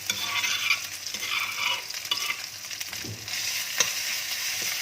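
Chili and garlic stir-fried in a pan over low heat, with a steady broadband sizzle and scraping strokes of a spatula running throughout, fairly close and alone with no voices.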